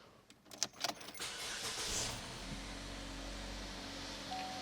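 After its engine bay is cleaned, a car engine is started: a few faint clicks and rattles, then the motor cranks, catches and settles into a low, steady idle.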